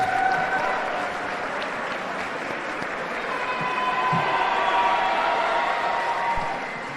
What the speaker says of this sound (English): let's please once again have a round of applause for both boxers